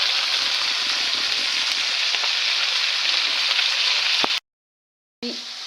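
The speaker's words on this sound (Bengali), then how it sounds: "যে দেখো দিকে মাছ ভাজা হচ্ছে, মাছ ভাজা বেশি দেওয়া হয়েছে" Fish fries in a pan with a steady, close, hissing sizzle that holds constant for several seconds, broken by a short silence before resuming.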